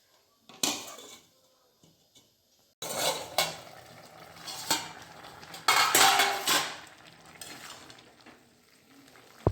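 A pot of mixed vegetables for a light vegetarian curry being covered with a lid, giving several loud metallic clanks and scrapes of cookware in bursts and leaving quiet gaps between them, with no voices.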